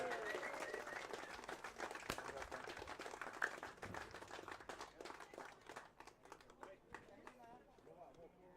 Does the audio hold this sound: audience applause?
yes